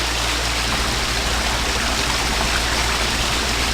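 A waterfall in the stealth game Thief Gold rushes as a steady, dense wash of falling water, loud and unbroken throughout, with no voices.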